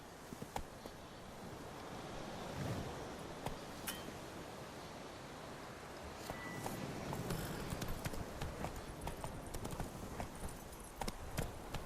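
Hoofbeats of the horse Roach in The Witcher III: Wild Hunt, a steady clip-clop of trotting hooves over a constant windy bed, with faint clinks of tack and moderate loudness throughout.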